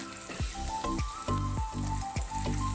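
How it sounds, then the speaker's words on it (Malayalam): Green chillies sauté in a hot pan for a spicy Kerala-style dal curry, giving a steady close sizzle and frying crackle with several sharp bursts and stirring knocks, and no talking. "അതിനോട് കൂടെ ഈ പച്ചമുളകും ഇട്ട് വഴറ്റാം."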